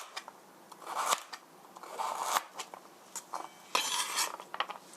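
A kitchen knife slices ingredients thinly for chicken spaghetti, giving a string of quick, light scraping cuts and taps on a board, close and fairly quiet, with no talking.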